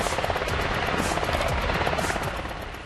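An MH-60R Seahawk helicopter, a loud continuous rotor and turbine roar with a fast steady beat, close and dominant, tapering slightly at the end.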